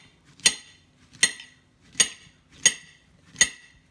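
A knife slices through a peeled banana on a board in a home kitchen, five crisp evenly spaced taps about two-thirds of a second apart, close and clear with near-silence between cuts.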